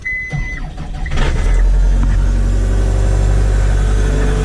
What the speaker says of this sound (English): we're gonna use the skid steer to move that red conveyor belt that I just washed